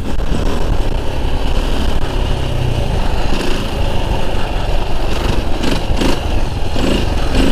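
A stock, unmodified enduro motorcycle rides along a road, its engine loud and close, droning steadily with slight shifts in pitch throughout.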